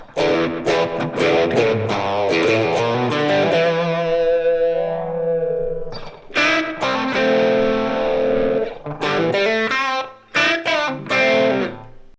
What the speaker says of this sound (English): The way I designed this effect was I used Ableton's new echo effect, which is just so great.